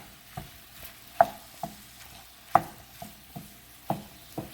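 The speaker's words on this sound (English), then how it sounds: "I'm going to go ahead and turn the flame up to about medium so that the beef browns and cooks" Beef browns in a pan over a medium flame, giving a low, quiet sizzle punctuated by roughly a dozen clacking stirs and spatula taps in an uneven rhythm, with nobody talking.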